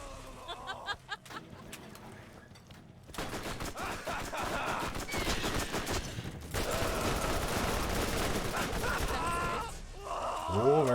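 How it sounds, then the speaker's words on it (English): An automatic machine gun in Borderlands fires long, dense bursts of rapid shots, loud and continuous, with game noise and brief vocal sounds around it. "I really like this machine gun, due to the fact that it just fires"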